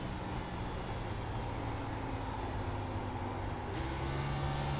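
NASCAR Xfinity race car in iRacing at Texas Motor Speedway, engine drone steady and loud throughout, building slightly as the car powers out of a corner after trail braking, alone with no talk.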